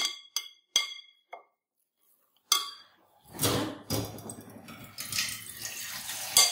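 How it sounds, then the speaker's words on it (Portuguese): Boiling water poured from a kettle over manioc starch flour in a kitchen bowl, preceded by a few sharp clinks of dishes, then a steady splashing pour that swells and continues, fairly close and loud. "Para mim escaldar essa farinha, eu quero água fervendo."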